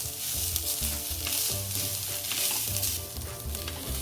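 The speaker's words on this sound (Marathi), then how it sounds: "खसखस परतली ओल्या खोबऱ्याचं किस टाकूया परतून घेऊ दोन मिनिट आपण" Poppy seeds and grated fresh coconut roasting in ghee in a pan give a continuous close sizzle with soft stirring scrapes throughout, and no talking.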